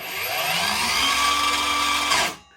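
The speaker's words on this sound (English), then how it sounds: "The saw has soft start and an electronic brake" Triton T20 cordless plunge saw with soft start and electronic brake, a high whining motor running steadily and loud, alone, then cutting off sharply and spinning down to silence near the end.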